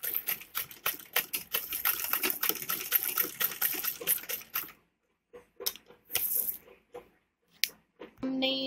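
A sewing machine double-stitching a peacock-style neck design: a fast, continuous rattling run for several seconds, then short start-stop bursts and pauses as the fabric is turned, with no speech.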